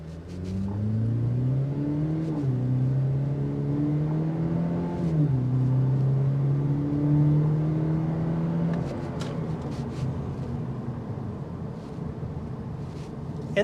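A 2026 Cadillac CT4 turbocharged engine accelerating in sport mode, a steady rising drone heard from inside the car with a gear-change dip, then easing off toward a quieter cruise.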